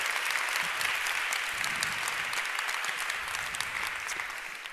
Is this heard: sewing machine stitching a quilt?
no